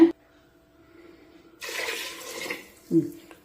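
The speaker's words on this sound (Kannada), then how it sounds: "ಈಗ ಇದಕ್ಕೆ ನೀರು ಹಾಕೋಣ" Water being poured into a pot of goat leg soup, a short burst of splashing and gurgling between brief clinks of the vessel, with a voice briefly heard.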